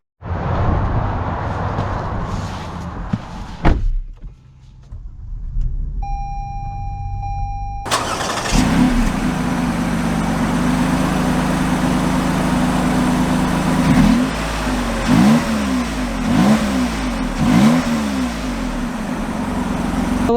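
A 2022 Lexus RX 350 idles, beeps briefly, then its engine fires up and settles into a steady hum before pulling away, with rising and falling revs as it accelerates, close and loud with no talk.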